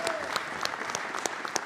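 Audience applause in a room at a transit agency news conference for a new railcar acceptance and testing facility, steady dense clapping throughout with a few sharper claps standing out, moderately near.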